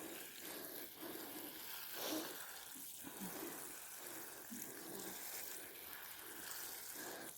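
Water runs steadily from a hose in a vegetable garden on a hot summer day, a continuous faint hiss and splash with no speech.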